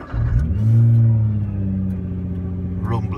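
A Nissan GT-R engine starts up close, a quick cranking catch swelling into a deep rumbling rev that settles into a steady, throaty idle.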